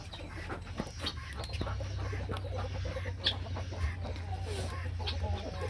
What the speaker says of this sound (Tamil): கருப்பு கோழி